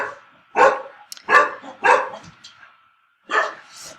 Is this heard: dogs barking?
yes